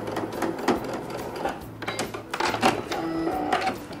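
Sewing machine top stitching along an installed zipper, a steady mechanical whir with rhythmic needle clatter in several short bursts, close and fairly loud, with no talking.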